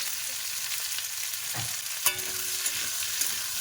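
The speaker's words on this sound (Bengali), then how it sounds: "এই তেলে আমি মুখে আর আলু ভেজে নেব" Steady oil sizzle with soft frying crackle throughout as taro and potatoes fry in a pan, plus a few light clinks of a spoon or spatula against the pan.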